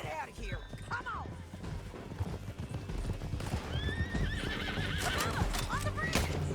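Horses in the Red Dead Redemption 2 video game whinny repeatedly and clop along at a gallop, the neighs rising over a dense, continuous bed of hoofbeats and game action, with voices talking throughout.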